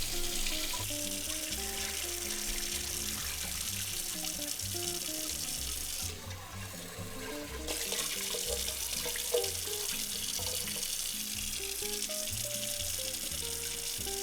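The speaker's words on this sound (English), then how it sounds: "we're going to rinse it 2 to 3 times under cold water until the water runs clear" Cold tap water runs into a bowl of Thai sticky rice being rinsed, a steady splashing flow with a brief break midway, close and fairly loud with no speech.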